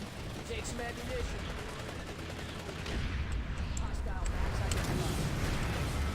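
Explosions and gunfire from the online shooter game Planetside 2 rattle on continuously, a dense crackling barrage that grows somewhat louder partway through, at moderate level.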